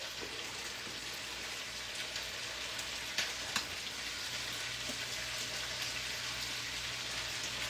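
Crab cakes fry in hot grease, giving a steady, close crackling sizzle with a few sharper pops, and no one speaks.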